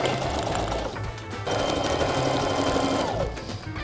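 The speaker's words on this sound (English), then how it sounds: "what are we gonna name this this sewing machine today?" A sewing machine stitches costume fabric with a steady, close mechanical whir, pausing briefly and then running again in a second sustained burst.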